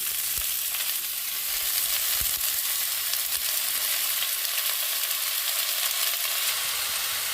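Chopped pumpkin stems fry in hot oil in a pan, a loud, even, close sizzle that holds throughout, with a few soft thuds near the start; no one speaks.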